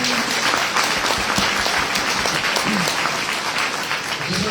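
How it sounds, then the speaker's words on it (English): Audience applause fills a spring community meeting hall: dense, continuous clapping from a sizable crowd, loud and sustained throughout, with a few faint voices mixed in beneath it. "if you give one round of applause for it."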